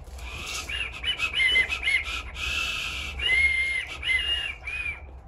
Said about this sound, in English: It's actually a widgeon whistle for catching ducks.